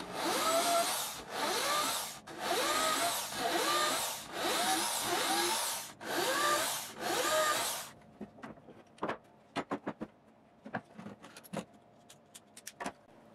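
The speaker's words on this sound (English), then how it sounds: "I just finished drilling the bolt holes" A power drill whines in several long bursts while drilling bolt holes in a wooden longboard deck, each spinning up and stopping, then scattered clicks and taps of handling tools follow nearby.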